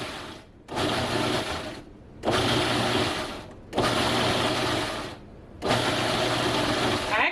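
Food processor pulsing chopped onions in four loud whirring bursts of about a second and a half each, separated by short pauses.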